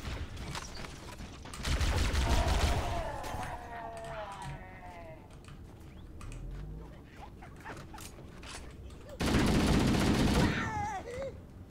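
Rapid bursts of gunfire from the game Halo: Combat Evolved, with two loud sustained volleys separated by quieter mechanical clatter and game effects.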